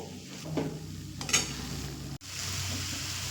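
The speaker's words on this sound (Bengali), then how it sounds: "একটু গরম মশলার গুঁড়ো দিয়ে আবারও এক মিনিট মতো মিশিয়ে নেবো" Chicken mince with garam masala fries in a pan while being stirred, a steady close sizzle broken by scraping stirs and a brief clatter, with no voices.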